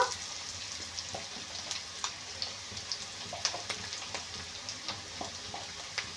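Pointed gourd frying in a pan with oil, giving a steady soft sizzle broken by scattered clicks and scrapes as the pieces are stirred, fairly quiet and close with no talking.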